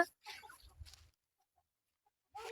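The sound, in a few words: chickens clucking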